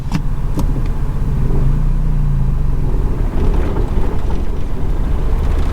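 A heavily modified BMW 335i sits at an unstable, hunting idle with its check-engine light flashing, a close, continuous low engine rumble whose pitch wavers up and down throughout.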